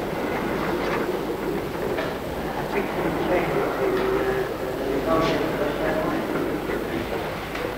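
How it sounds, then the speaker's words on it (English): A train arriving at York station rumbles steadily with rhythmic wheel clatter and a faint squeal, heard through a continuous low rumble with muffled voices in the background. "There's the North Britain coming in now."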